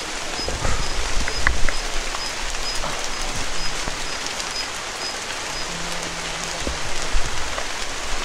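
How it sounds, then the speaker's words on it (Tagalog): Heavy rain pours down steadily, a dense hiss of drops drumming on surfaces with no voices. "Ulan na ulan talaga bro."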